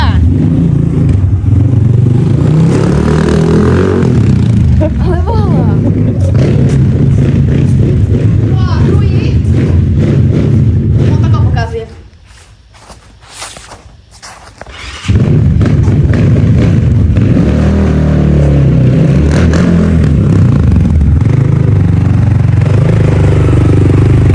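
A newly assembled Rottor Puncher Lite 250 motorcycle runs on its first ride, its loud engine droning and revving up close. The engine drops to a quieter stretch for a few seconds, then roars back to full level.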